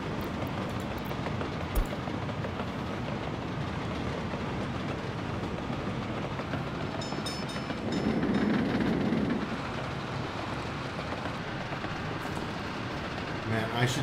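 An electric train in the Workers & Resources: Soviet Republic game rumbles along the track with a steady rolling drone and faint clickety-clack, swelling briefly midway.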